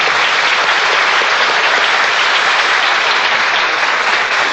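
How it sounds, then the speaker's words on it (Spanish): A crowd applauds with loud, dense, steady clapping that fills the whole stretch without pause. "Un aplauso para el artista."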